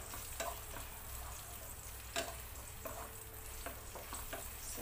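Chicken frying in a single pan, a soft continuous sizzle with a few scraping stirs and light clinks, close but fairly quiet and free of talk.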